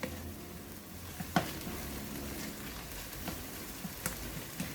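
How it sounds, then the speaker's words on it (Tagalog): Eggplant and minced pork are mixed together for cheesy tortang talong, giving a soft, wet, continuous scraping and squelching with occasional light taps of a utensil, close and fairly quiet. "ihalo lang natin mabuti yung talong"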